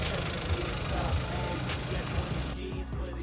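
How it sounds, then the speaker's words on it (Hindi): Hyundai Venue with a Kappa 1.2 litre MPI BS6 petrol engine running at a steady idle, a continuous low hum that drops and thins near the end. "and here is the engine sound"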